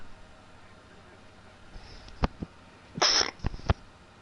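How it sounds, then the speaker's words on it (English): A sneeze bursts out over a livestream microphone, one sharp, loud hiss after a couple of quick breathy sniffs, close to the mic and otherwise near silence. "Either that or sneezed without muting the mic correctly."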